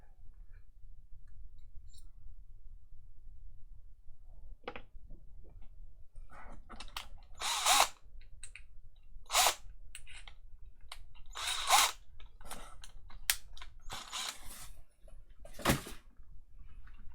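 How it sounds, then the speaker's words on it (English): A step drill bores into a mod box enclosure for a parallel dual 18650 build, with bursts of grinding drilling in the second half, separated by short pauses, over a quiet background hum. "Put the step drill in."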